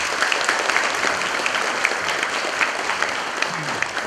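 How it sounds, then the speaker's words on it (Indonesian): A crowd at a pre-dawn sahur meal and dialogue gathering with prospective migrant workers gives a company sustained applause, a dense, even clapping that holds steady throughout. "Tepuk tangan dulu lah buat"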